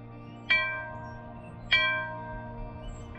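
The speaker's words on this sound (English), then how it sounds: "You can ring the bell." A small church bell strikes twice, a second or so apart, each ring decaying gently over a low steady hum, in St. Augustine, Florida.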